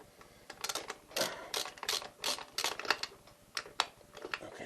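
A ratchet works a captured nut loose on a CB900 motorcycle during a coil swap: quick runs of sharp metallic clicks in short bursts, fairly close and moderately loud, with no talking.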